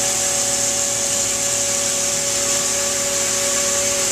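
A CNC machine polishes the edge of a 3 cm stone slab with polishing wheels, running at 2400 RPM and 50 inches a minute, giving a loud, steady whine with a constant tone and hiss that holds unchanged throughout.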